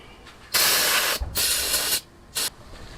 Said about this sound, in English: I'm gonna spray it with a little bit of brake clean first